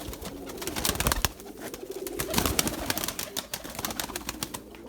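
Pure white Erzurum pigeons coo in a loft on a fine day, a steady run of soft, overlapping calls with wingbeats and rustling close by and no one talking.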